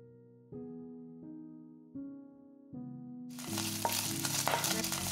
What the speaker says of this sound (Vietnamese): Cho mỡ vào chảo, thêm một chút nước.